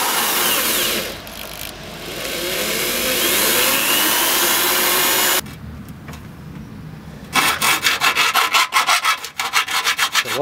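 A power drill fitted with an angle attachment bores holes in a Mazda MX-5 body while fitting a Fenspeed Motorsport roll cage, a close, loud grinding whir that stops briefly, then returns as rapid pulsing bursts.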